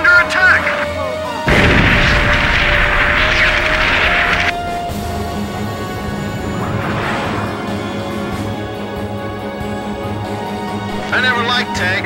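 Explosions from attacking tanks in Ace Combat 5, a jet combat game: a heavy booming blast lands early and its roar holds for a few seconds over steady engine drone, with smaller bursts later.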